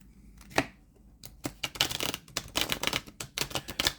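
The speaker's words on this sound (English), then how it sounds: "So my shuffling game needs some massive improvement." New tarot deck being shuffled by hand, a string of crisp papery riffles and card slaps in bursts, close and fairly loud, with no talking.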